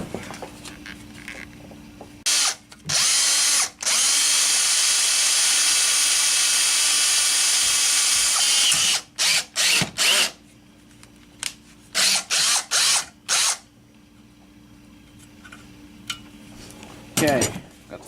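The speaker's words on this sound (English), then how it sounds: "So just gonna drill one right in the middle." A power drill bores a hole through a homemade shovel foot pad, one long steady whine of about six seconds, then several short bursts and brief stops nearby, with faint clicks between.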